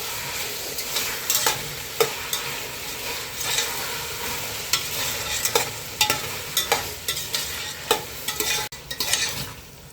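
Cut cucumber sautés in a pan for vellarikkai sambar, a constant sizzle broken by repeated sharp scrapes and clacks of a spoon as it is stirred.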